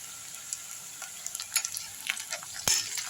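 Onions and tomatoes frying in a pan for a fish thokku, a soft sizzle punctuated by scattered clicks and scrapes of stirring, fairly quiet and close.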